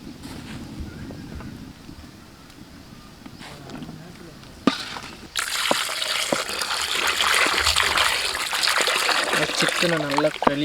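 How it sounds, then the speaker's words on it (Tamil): Cooked pasta is drained, and water gushes and splashes loudly after a quieter opening of trickling and scattered clinks, with the rush continuing steadily to the end while voices talk briefly. "பாஸ்தா நல்லா வெந்துக்கிச்சு, வடிச்சிக்கலாம்."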